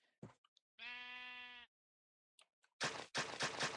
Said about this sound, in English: No, that's not a cow. That's a sheep.